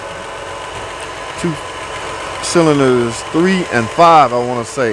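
A Hemi engine with a rebuilt rail assembly idles smoothly and steadily now that its misfire is fixed, a low continuous hum running beneath a man's close, fairly loud talking.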